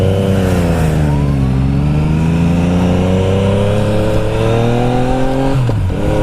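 A 2017 Yamaha FJ-09 motorcycle engine drones steadily and loud while riding, its pitch dipping then rising and holding before dropping near the end, with wind rush throughout and no talking.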